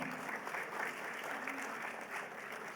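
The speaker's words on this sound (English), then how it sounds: "So good round of applause to all of them." Audience clapping for finalists at a national quiz on the Indian Constitution, a steady, full round of applause from a seated crowd in a hall, even and continuous with no voices over it.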